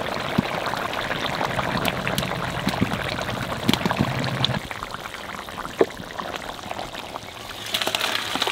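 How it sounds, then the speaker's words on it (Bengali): Raw mustard oil poured into a simmering fish curry of hilsa and phasa fish, a steady close trickling, sizzling wash that shifts slightly midway, with no voices over it. "এইবার একটু কাঁচা সরষের তেল দিয়ে নামাই দেবো।"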